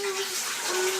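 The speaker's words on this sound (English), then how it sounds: "I'm going to add a couple of things of cold water first" Cold tap water runs into a mixing bowl while mead is being made, giving a brief, soft, steady trickle and splash at close range.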